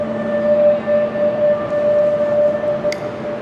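Metro train in the Santo Domingo subway: a loud, continuous rumble carries steady whining tones as the car moves, with a faint click near the end.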